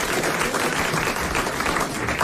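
Studio audience at a 1989 French television show applauding a woman who won 1000 francs, a steady, dense wash of clapping from a large crowd, even and loud for the whole span.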